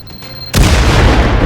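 In a VR video game, a sudden, loud explosive boom of a mine bursts in after a quiet moment and leaves a dense, rumbling roar that carries on to the end.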